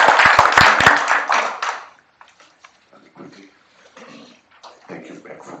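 Small conference audience at a blockchain event giving a brief burst of clapping, with distinct claps up front that fade within two seconds, followed by quiet room noise and scattered faint sounds.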